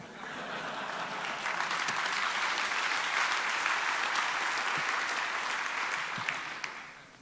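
Conference audience at a Python programming conference breaks into sustained applause for a prize winner, a steady wash of many hands clapping that swells slightly and holds at even loudness before trailing off.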